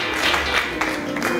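A short burst of applause from an audience at a church gathering, fairly loud and even for about a second and a half.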